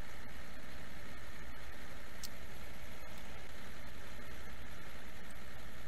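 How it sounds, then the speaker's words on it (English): Fire engine pumps run at a steady idle during a water relay between two engine companies, a constant low mechanical drone with faint clicks, no talk. "Both engine companies have their pumps going."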